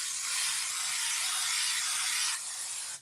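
A spray can hisses in a steady, loud, continuous burst for about two and a half seconds, dropping briefly before cutting off, used while making a graduation cap topper.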